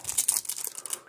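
A Pokémon Chilling Reign card pack's foil wrapper is torn open up close, a quick burst of crinkling and ripping lasting about a second.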